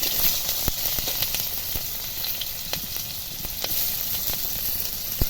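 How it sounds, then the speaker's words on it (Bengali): Chopped onions fry in hot oil with panch phoron in a wok, giving a steady close sizzle with occasional sharp pops and crackles and a few stirring scrapes throughout. "পেঁয়াজটা ভালোভাবে লাল লাল করে ভেজে নেব"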